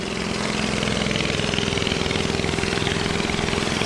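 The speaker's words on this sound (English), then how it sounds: "The long tails are all parked up nicely. Some of them are making a racket, as you can hear." Long-tail boat engines idle loudly on a Koh Lipe beach in Thailand, a constant, rough, rapidly pulsing mechanical drone that stays close and unbroken throughout.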